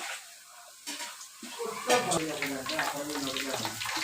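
Gram flour batter drops for boondi frying in hot oil, a rising crackling sizzle that thickens after the first second and stays steady and close, with stirring clinks and no talk over it.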